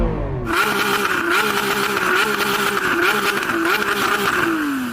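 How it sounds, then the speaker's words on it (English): The V12 engine of a Lamborghini Aventador SVJ revving hard several times in succession, each blip rising quickly and dropping back, loud and close with no voices. "I'm going to start off by revving up the glorious V12 of this Lamborghini."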